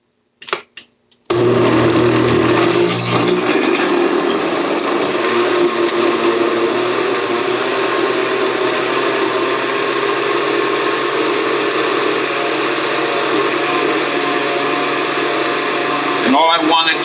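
A kitchen blender set to stir for a quick sweet potato pie filling starts after a brief clatter and then runs as a loud, steady motor whir that continues close by until the end.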